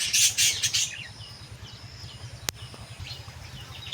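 Pigeons gather close by, giving soft, low, pulsing coos under a few sharp, higher squawks and chirps at the start, with one brief click midway.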